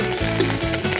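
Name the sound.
frying green chillies and curry leaves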